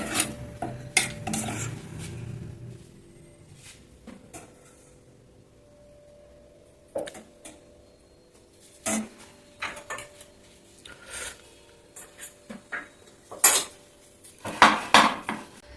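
Variety rice being mixed in a metal vessel, heard close up as a series of irregular clanks, scrapes and taps of a spoon against the pot between quiet pauses.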